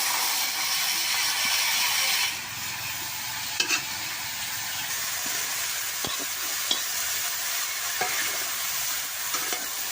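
Taro stolons fry with dried shrimp in a wok, producing a steady loud hiss and sizzle at close range, with occasional clicks and scrapes of stirring and no talking.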